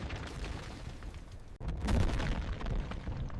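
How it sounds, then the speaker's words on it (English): A breaching charge detonates to blow the hinges of a blast door in an underground bunker complex, a loud broadband boom at the midpoint swelling out of a low rumbling background and leaving a sustained heavy roar. "The explosion rocked the foundation of the building"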